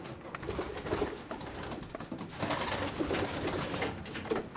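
Racing pigeons, widowed hens, coo softly and repeatedly in a busy loft, their low burbling calls overlapping amid rustling and scuffling, with no talking.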